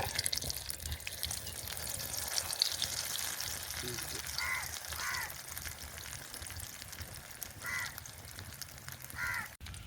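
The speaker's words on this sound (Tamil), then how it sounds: "இப்போ எங்களுக்கு ஒரு பக்கம் பொரிஞ்சு கொண்டு வருது" An egg frying in a pan gives a steady, close sizzling hiss throughout, while crows caw a few times in the background.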